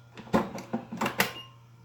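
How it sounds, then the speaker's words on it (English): Makita LXT battery charger giving its regular beep, a run of several short, clicky electronic pulses in quick irregular succession, moderately loud and close, with no talking. "And that's the regular beep."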